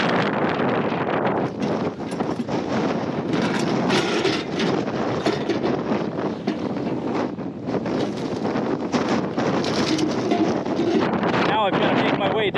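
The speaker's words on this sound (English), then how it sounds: "Quite a bit of dust getting kicked up from this wind." Strong wind gusting across an exposed desert summit above a dried lake bed on the Mojave-Sonoran Trail near Lake Mead, a loud, continuous buffeting roar hitting the microphone throughout.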